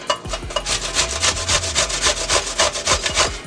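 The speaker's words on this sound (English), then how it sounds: "So the next thing we're going to do is we're going to simply just grate this cucumber down." A cucumber is rubbed hard against an old-fashioned grater in quick, even strokes. The rasping scrapes repeat in a steady rhythm, loud and close, with no talking.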